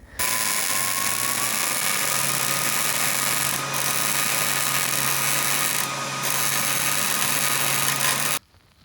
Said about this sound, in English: let you guys just hear this welding